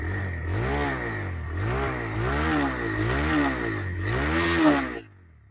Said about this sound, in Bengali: টিভিএস এর ইঞ্জিন সাউন্ড জোস